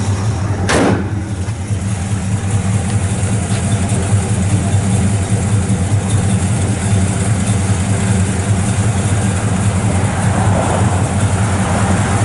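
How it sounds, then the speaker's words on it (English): A 1965 Pontiac GTO with a 389 V8 fires up and settles into a loud, steady rumbling idle that continues close by without a break, with no talking over it. "Thing fires right up."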